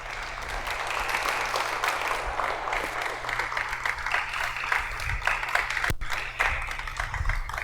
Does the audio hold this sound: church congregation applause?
yes